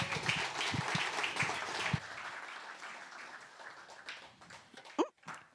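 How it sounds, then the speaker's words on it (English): An audience at an evening pub talk gives a round of applause, with a burst of clapping that gradually thins and fades over a few seconds, and brief voices and noises near the end. "How about another round of applause for Amy?"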